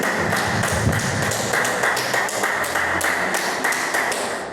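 Church congregation applauding together during an evangelical sermon, a steady dense wash of many hands clapping throughout, fairly loud and close, with no voice on top.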